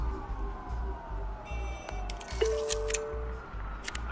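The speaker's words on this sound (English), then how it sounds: "There are quite a few police cars convening on your location." Police car sirens wail in the Batman Telltale video game, their sweeping tones riding over a steady, rhythmic low pulse, with no speech.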